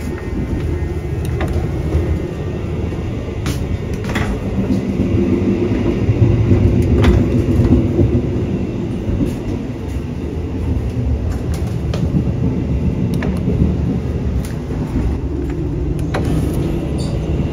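Steady low rumble and rattle of a moving Lodaya executive-class train in Indonesia heard from inside a carriage, with occasional clicks and knocks over the continuous drone.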